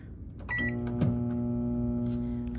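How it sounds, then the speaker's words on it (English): A microwave oven starting up with beeps, then a steady close electrical hum as it runs. "So now we're gonna microwave it."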